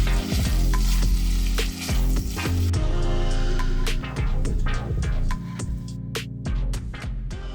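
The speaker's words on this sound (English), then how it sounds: "So my plan for today was to slow cook a lamb stew." Lamb stew sizzling and frying in a pan, a steady loud crackle with occasional stirring clinks and scrapes, no talking.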